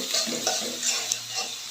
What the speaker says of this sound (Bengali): পেঁয়াজ কাঁচামরিচ ফার্স্টে দিয়ে দিলাম তেলের মধ্যে। এটাকে একটু ভাজা ভাজা করে